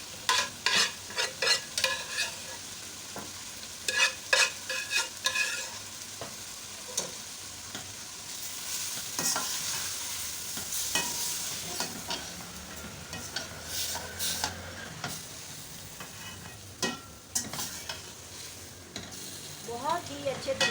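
Mutton keema being stir-fried in a karahi: repeated scraping and clattering strokes of a spoon against the pan over a constant crackling sizzle, close and lively throughout.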